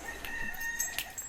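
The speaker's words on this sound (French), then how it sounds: "Une poule, non, un coq plutôt." A rooster crows at an animal sanctuary, a strained, fairly close call over a brief stretch of rough outdoor background.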